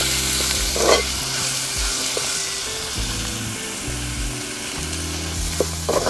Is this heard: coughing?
no